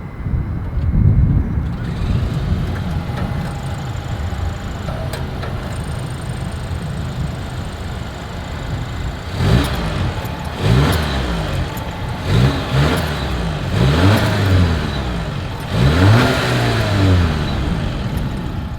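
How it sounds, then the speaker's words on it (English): A 2023 Volvo V60 Cross Country wagon idles with a deep exhaust rumble, then revs up several times in rising and falling surges. "As always, here is that exhaust clip."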